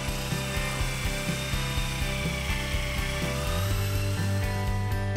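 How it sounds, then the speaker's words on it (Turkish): A homemade drill-driven sanding tool works a wooden candle holder made from pruned tree branches, a loud steady motor whine with regular rhythmic scraping pulses, close and continuous, without talk. "Bu zımparalamayı da yine kendi imkanlarımla yaptığım, matkabı kullanarak yaptığım bir alet."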